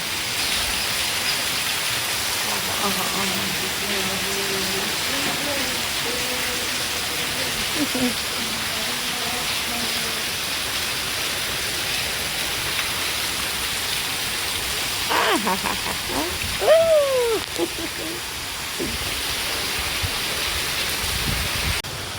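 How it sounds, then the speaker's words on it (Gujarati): Heavy afternoon rain pours steadily as a dense, loud hiss throughout, with people talking briefly under it at a few points. "જોરદારનો વરસાદ પડી રહ્યો છે."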